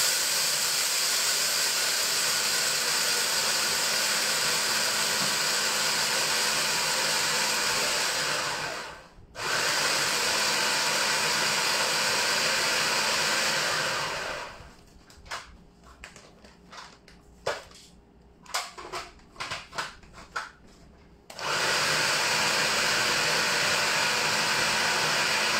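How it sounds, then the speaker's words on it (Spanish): A food processor grinds chocolate coating pieces with a loud, steady whirring hum. It stops briefly, then runs in a series of short stuttering pulses before settling back into a continuous grind. No one speaks. "Esto lo vamos a hacer en el procesador y los vamos a moler un poquito"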